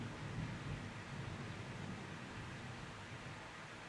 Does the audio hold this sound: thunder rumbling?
yes